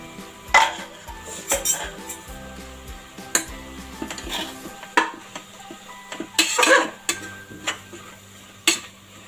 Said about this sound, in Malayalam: ഇതാ ബിരിയാണി മസാലപ്പൊടി എല്ലാം കൂടെ ഇട്ട് നന്നായിട്ടൊന്ന് മിക്സ് ചെയ്തെടുക്കാം